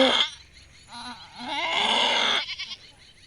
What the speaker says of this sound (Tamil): ஆடு வந்து வழியில் ரொம்ப துடிச்சிட்ருக்கு